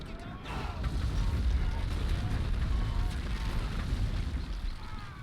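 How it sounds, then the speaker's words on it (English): Booming barrage explosions from artillery in Battle for Middle-earth II rumble continuously over a dense, loud battle din, with faint game sounds layered on top and no gaps. "Oh, barrage will be used."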